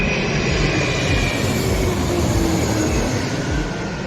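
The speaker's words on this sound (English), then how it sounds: "This is called the Strato launch, and this is its maiden flight." The Stratolaunch aircraft on its maiden flight gives a broad, steady roar of engine noise, loud and continuous throughout, with no voices over it.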